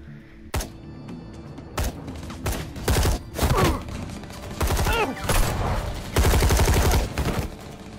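Gunfire in a Batman video game, with a rapid fusillade of loud, sharp shots in repeated bursts and clustered volleys, some spaced apart and others rattling in quick succession, with no talk over them.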